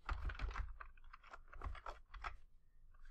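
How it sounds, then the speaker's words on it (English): Rapid clicking keystrokes on a computer keyboard while entering a repository name, close and clear in a quiet room, in uneven bursts with short pauses. "then start typing the name"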